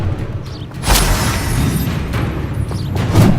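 A Confringo blasting spell in a Harry Potter video game lands as a loud, close boom, followed by lighter rumbling and a second thump near the end, with no talk.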